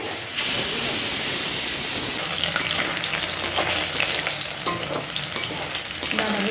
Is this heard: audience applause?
no